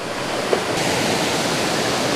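River water rushes loudly and continuously near a waterfall, a dense unbroken roar close by, with a faint click early on and no voices.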